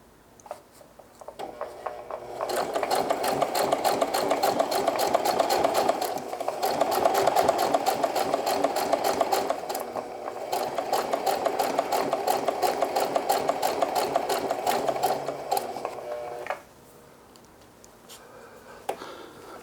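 A sewing machine stitches a hem on denim jeans, its needle hammering in a fast, even, loud mechanical rattle for about fourteen seconds before it stops and only faint ticks remain.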